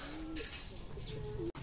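Racing pigeons give soft cooing calls close by, a few low rolling coos in quick succession over a quiet background.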